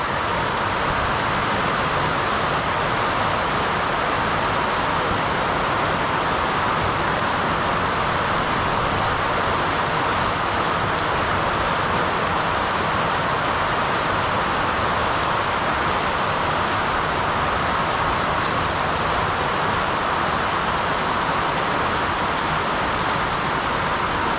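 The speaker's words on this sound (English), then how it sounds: "Bloody rain. Why now?" Steady, dense rainfall hissing continuously across the whole stretch, loud and close, with a faint low rumble beneath and no voices.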